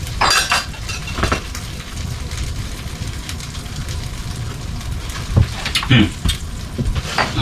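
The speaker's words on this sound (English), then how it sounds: "Just give it one last little stir here." A spoon stirs soup in a pot with irregular metallic clinks and scrapes against the sides, bunched at the start and again near the end, over a soft bubbling bed with a brief voice.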